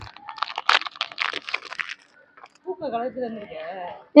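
A stray dog crunches and chews food in a quick run of sharp, close crunches and bites, followed by someone talking.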